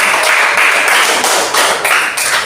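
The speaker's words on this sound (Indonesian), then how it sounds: "tepuk tangan untuk semua" Schoolchildren in an Indonesian classroom clap together in loud, close bursts, a rhythmic round of applause with brief dips between the clapping patterns.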